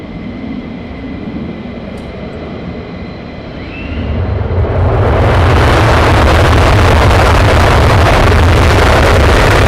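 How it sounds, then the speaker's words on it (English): Military jet at RAF Lakenheath during an aborted takeoff, its engine roar building from a distant hum into a loud, broad, sustained blast partway through. "Aborted takeoff."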